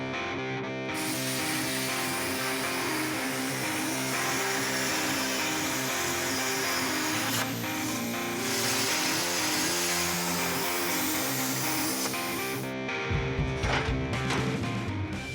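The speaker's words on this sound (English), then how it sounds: "now we can cut it on the CNC plasma table along with a few other brackets" A CNC plasma table cuts a steel winch plate for a Jeep build, giving a loud, steady hiss and roar that runs almost unbroken for about twelve seconds and then drops off, with clattering bursts after it stops.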